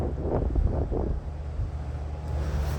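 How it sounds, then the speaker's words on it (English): Low, steady wind buffets the microphone outdoors on the Sarnia Bay disc golf course, a continuous rumbling roar with gusty swells and no other distinct sounds. "On the first hole, it's windy."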